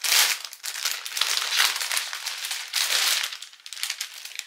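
Plastic packaging around a tote bag crinkles and rustles in repeated bursts as it is unwrapped, close and fairly loud, with brief pauses between handfuls and no speech.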